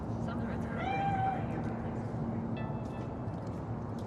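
A cat meows in a Cyberpunk 2077 scene, a short rising call followed later by a fainter second meow, set against a steady low ambient hum and background noise.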